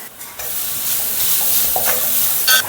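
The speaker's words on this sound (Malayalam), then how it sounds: "അതിലേക്ക് നമുക്ക് വറുക്കാനുള്ള നാളികേരം ഇട്ട് കൊടുക്കാം." Grated coconut stirred and roasting in a wok-style frying pan just washed after frying dried prawns, giving a steady close sizzle with scraping stir strokes and a brief sharper clatter near the end.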